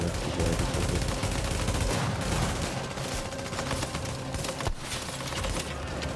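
Sniper fire in a tactical video game, heard as dense, continuous gunfire and explosive bursts filling the scene at steady loudness without any speech.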